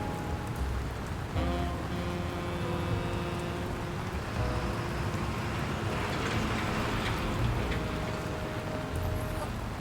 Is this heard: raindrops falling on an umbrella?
yes